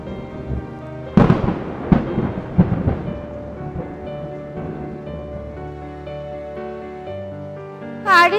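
A cartoon thunderstorm with rain: several sharp thunder cracks close together, then a rolling rumble over steady rainfall, and a brief voice right at the end.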